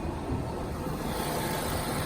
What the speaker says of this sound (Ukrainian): Зараз покажу вам, як працює мотор.